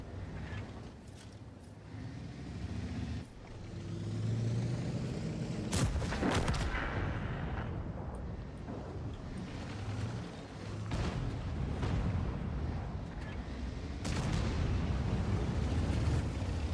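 Tank gunfire in the World of Tanks video game, heavy booming shots and blasts over a continuous rumbling battle din, several loud reports spread across the clip.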